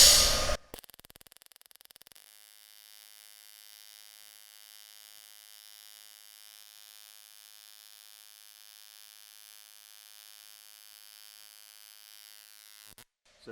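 AC TIG welding tack on aluminum for a Porsche 550 dash subassembly: a steady, even electric buzz runs for about twelve seconds, starting and cutting off abruptly, with no voices over it.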